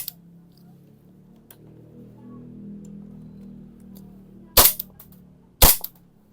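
Two sharp, loud pops from a Double Bell Pit Viper airsoft pistol firing about a second apart during a chronograph speed test, after a low background hum.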